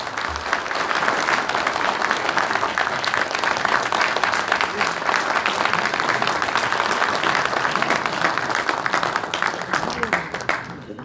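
Loud, sustained applause from a large audience at a football association president's inauguration ceremony in Ansan, steady and dense throughout with faint voices underneath.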